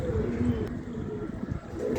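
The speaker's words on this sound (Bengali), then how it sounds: "সব ম্যাড্রাস আমাদের বেশিরভাগই আমার ওস্তাদের পায়রা" Madras breed pigeons in a loft's hen section coo in low, throaty rolls, several birds overlapping close by in a brief burst.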